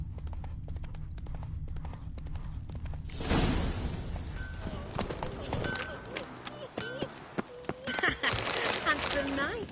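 Roach, the horse in The Witcher 3, breaks into a gallop with rapid, rhythmic hoofbeats close by. Whooshing game effects and speaking voices come over the hooves in the second half.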